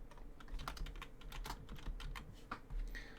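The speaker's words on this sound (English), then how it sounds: "I'm just pressing buttons on my keyboard" Rapid, irregular keystrokes on a computer keyboard during a Factorio gaming session, close and fairly quiet, clicking in bursts with short pauses and no voice.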